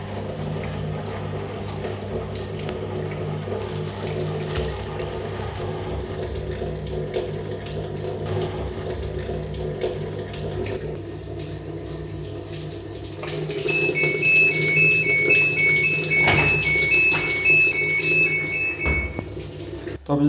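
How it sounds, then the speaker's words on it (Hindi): A Godrej washing machine runs steadily while it fills with water, a continuous tap-like hum and rush that grows louder partway through, with a faint high tone over it. "ये है मशीन का आवाज़। आवाज़ सिर्फ इतना ही आना चाहिए।"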